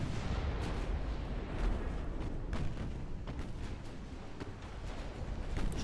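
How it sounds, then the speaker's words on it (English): Deep naval cannon broadside from a video game, the USA long campaign, rumbling as a steady dense barrage of low booms with sharper cracks scattered through, loud and continuous without talk. "There's the broadside we love"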